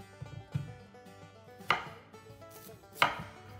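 A knife chops through sweet potato on a cutting board, with a few soft cuts followed by two sharp knocks against the board, close and isolated.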